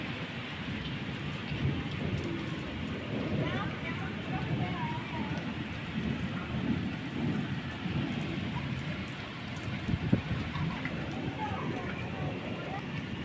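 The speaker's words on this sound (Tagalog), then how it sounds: "Narinig nyo guys, yung kulog." Steady heavy rain in Qatar pours throughout, with low rumbling thunder rolling underneath and a sharper crack near the end.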